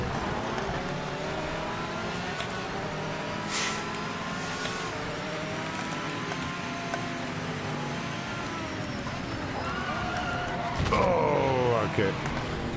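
A race car in the video game Project Motor Racing, engine droning steadily and shifting pitch under braking, with a brief louder burst near the end and a person talking over it.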